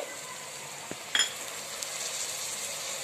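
Vinegar and soy sauce sizzle in a hot pan for a leftover-rice manchurian gravy, giving a steady broadband hiss throughout with a few brief utensil clinks near the middle, no voices.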